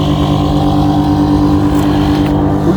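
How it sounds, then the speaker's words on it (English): Boat outboard engine running in forward gear in the water, a steady loud droning hum with a constant low pitch, close by and uninterrupted. "We're gonna put the engine in forward."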